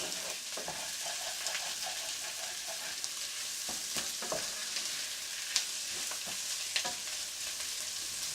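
Four large onions fry in a hot pan, giving a steady, soft sizzle with occasional crackles and spits. A few stirring scrapes come through clearly, and no one talks.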